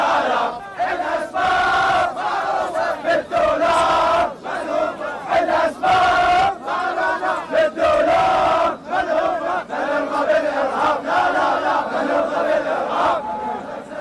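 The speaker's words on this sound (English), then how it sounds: "The intense feeling of unity in Karbala also generates defiant chants of national pride." A large crowd in Karbala chants defiantly in loud, sustained unison, the rhythmic mass of voices rising and falling in bursts with brief gaps between shouted phrases.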